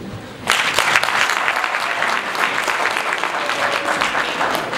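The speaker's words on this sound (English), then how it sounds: "Let's give a round of applause to Gladys." Steady applause from a crowd at a school graduation ceremony, lots of hands clapping together at an even level that holds throughout without fading.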